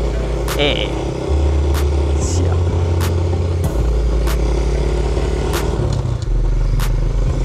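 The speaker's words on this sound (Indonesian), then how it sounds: "Oke, kita bakal nyoba motornya." A mini motorbike is ridden close by, its small engine buzzing and revving in uneven bursts with clattering knocks, while someone speaks briefly over it.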